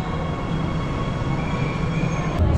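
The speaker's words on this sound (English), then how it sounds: "when the train arrives, just arrived now" A Shanghai metro train rumbles steadily at an underground station 36 meters deep, a loud continuous low roar with faint wheel squeal, heard close and without talk.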